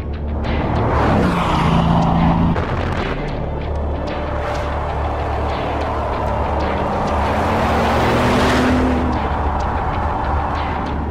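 The 1,001-horsepower engine of a Bugatti Veyron roars loudly, surging and swelling as the car accelerates past, with a rising whine and heavy rumbling throughout and no talk.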